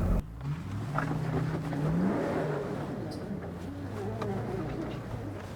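An off-road vehicle's engine labors and revs at low speed in low range, its tone rising and falling as it crawls up rock steps, with no talking.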